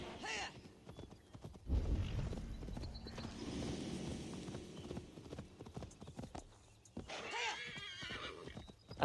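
Horse hooves clip-clop in a steady gallop with a couple of neighs and whinnies from a mount in Assassin's Creed Valhalla, fairly loud against game ambience.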